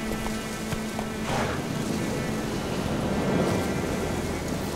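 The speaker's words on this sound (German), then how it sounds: "Oh, und Gewitter und windig." A thunderstorm with wind in The Witcher 3 game, a steady broad rumble and rushing air that stays at an even level throughout, with no distinct thunderclaps standing out.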